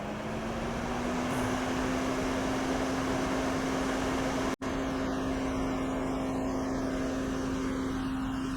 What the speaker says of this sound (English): now I'll switch on the Fume extractor